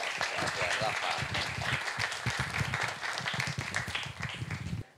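Audience applause at a book presentation: a steady, dense clapping from a full room sustained for about five seconds, close and fairly loud, then cut off.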